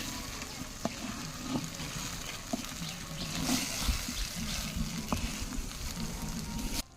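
Jackfruit and mango kasundi cooking in a pan, a soft steady sizzle with occasional sharp clicks of a utensil against the pan, fairly faint and continuous with no speech.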